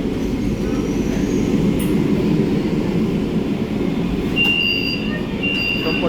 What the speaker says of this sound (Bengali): এখন একটা এই ট্রেনটা পাস করছে